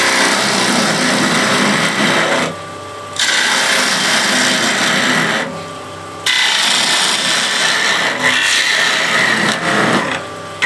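A bowl gouge cuts into wood spinning on a lathe, hollowing out a bowl in a steady, loud scraping whir that drops out twice for brief pauses before resuming.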